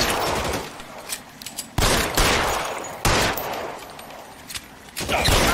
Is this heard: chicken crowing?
no